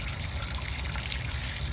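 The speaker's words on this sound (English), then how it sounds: "The water's coming out crystal clear right now." Water pours and trickles steadily into a mini pool pond set up outdoors in Florida for baby iguana hatchlings, a continuous close splashing flow with no talking.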